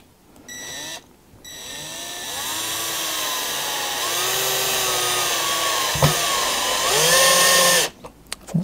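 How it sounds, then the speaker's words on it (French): A power screwdriver drives a screw into pre-drilled wood, its motor whining steadily and loudly for several seconds, with pitch dips as the screw bites, then stops abruptly near the end. "Et je vais pouvoir visser maintenant."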